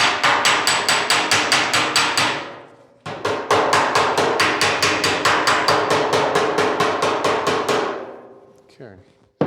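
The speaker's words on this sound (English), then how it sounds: "You can hear the dolly being hit as I'm plenishing." A steady run of sharp, ringing hammer strikes on a dolly while planishing sheet metal warped by welding, pausing briefly midway before resuming, close and loud, then tapering off at the end.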